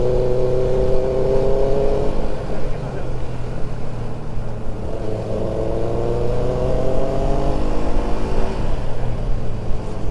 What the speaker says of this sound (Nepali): यो बाइक हेर्नु मन लाग्यो क्या मलाई बेनेली रहेछ